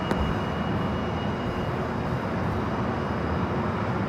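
A Delta jet takes off from runway 24 left at LAX, a steady loud engine roar and broadband rumble sustained through the whole clip, with a brief click at the start.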